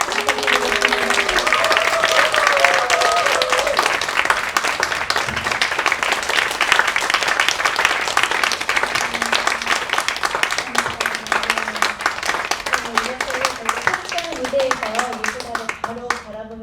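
Warm audience applause greets a traditional Korean dancer taking the stage, a dense wash of clapping running steadily throughout, with tonal music or singing lines threading over it near the start and end.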